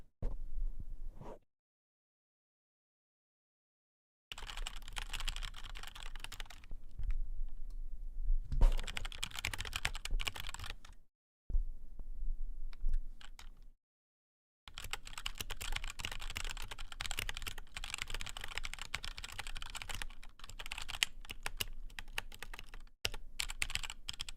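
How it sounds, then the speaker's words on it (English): Rapid computer keyboard typing clatters in dense bursts of clicks, close and clear, broken by a few silent gaps with no voices. "Yeah, I like the clicks too. It's like a reward for like if I'm typing something really quick."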